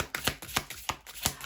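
Tarot cards shuffled by hand in quick riffling bursts, about five crisp rustling swishes at an even rhythm, close and clear with no talk.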